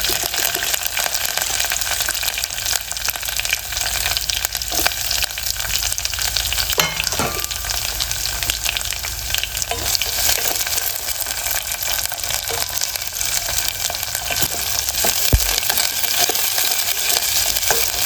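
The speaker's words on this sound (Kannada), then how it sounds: "ಸಾಸಿವೆ ಜೀರಿಗೆ ಕರಿಬೇವು ಈರುಳ್ಳಿ ಇಷ್ಟು ಹಾಕಿ ಒಗ್ಗರಣೆ" Mustard seeds, cumin, curry leaves and onion fry in hot oil for a tempering, a loud steady sizzle with crackling pops throughout, close up and without talk.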